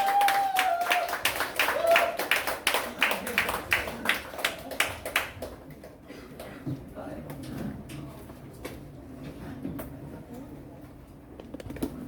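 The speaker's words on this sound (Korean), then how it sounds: "박수 부탁드릴게요" High-school church youth group audience clapping for a couple coming on stage for recreation time, a few seconds of scattered, moderately close claps that thin out into quiet room noise and murmuring voices.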